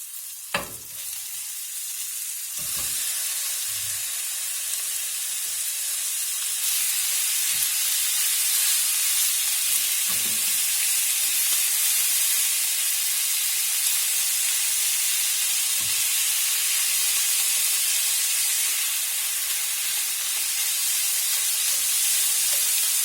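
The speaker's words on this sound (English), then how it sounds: "So I'm just going to cook the meat until it turns brown." Ground beef and ground pork fry in a pan with a steady, close sizzle and hiss that runs throughout, broken by occasional soft stirring scrapes and knocks.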